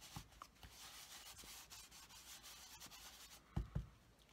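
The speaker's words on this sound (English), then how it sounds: "I'm going to use my embossing buddy over this piece." A plastic embossing buddy is rubbed back and forth over a piece of cardstock, a soft, quiet, continuous scratchy swish with a couple of light taps near the end.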